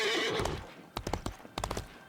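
Maximus the horse in Disney Infinity 3.0 gives a whinny, then breaks into rhythmic galloping hoofbeats in two quick bursts, crisp and close over quiet game ambience.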